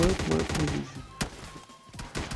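Gunfire in PUBG Mobile Lite, a few sharp shots cutting through as someone talks excitedly over the game audio.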